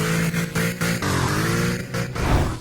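A rare car's engine in the Roblox racing game Midnight Chasers revs and drones loudly, pulsing up and down with gear changes and sustained harmonic tones.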